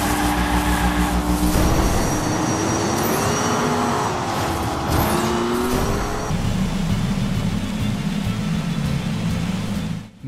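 Toy Hot Wheels cars race around huge tracks in the video game Hot Wheels Unleashed, their engines whining and revving continuously with rising pitch sweeps, loud and steady, shifting to a lower rumble partway through.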